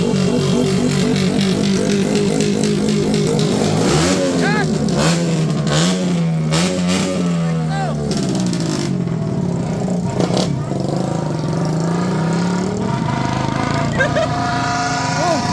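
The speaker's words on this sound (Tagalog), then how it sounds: "Mga motor!" Several motorcycles rev their engines loudly and repeatedly at a street New Year celebration, the roaring pitch rising and falling while people shout and talk.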